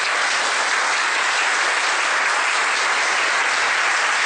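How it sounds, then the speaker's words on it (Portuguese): Members of a Bahá'í community in Curitiba applaud themselves as a group. The clapping is loud and close, a dense, even wash of hands that holds steady throughout without a break. "Posso pedir uma salva de palmas para todos nós?"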